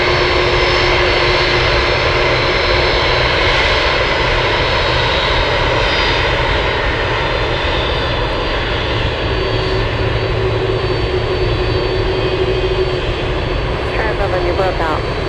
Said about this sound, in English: This one taxiing on the runway